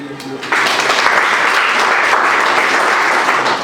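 Audience applause for M. Louis at an entrepreneurship training session, loud dense clapping bursting in after a brief quieter moment and continuing steadily to the end.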